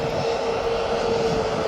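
AirX aircraft taxiing at Birmingham Airport toward the executive area; a steady, even engine drone with a constant whine, nearby and unbroken.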